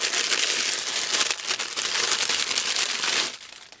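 Plastic cellophane wrapping on a 2.5-inch-wide strip of scrap tape crinkles and crackles steadily and close up for about three seconds as it is opened, then stops abruptly near the end.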